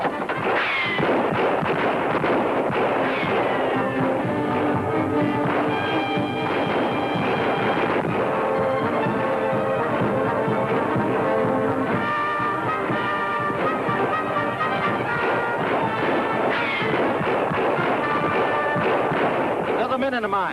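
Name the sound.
gunfire in a shootout, old film serial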